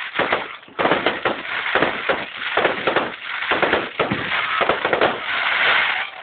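Dense, continuous crackling and popping of firecrackers and fireworks going off rapidly at New Year, loud and close, bursts overlapping without pause.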